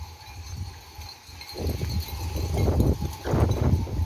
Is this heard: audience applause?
no